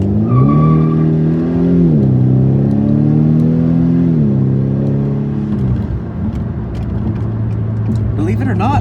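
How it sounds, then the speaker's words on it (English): Acura TLX A-Spec with a muffler-delete exhaust pulling away, a loud, deep engine drone rising and falling through gear changes and then settling into a steady cruise. "It's just the car sounds wonderful. I do have an EOS exhaust muffler delete, axle black."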